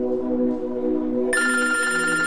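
A telephone rings loudly and steadily in an office, with a sustained electronic ringing tone that shifts to a brighter, higher ring partway through.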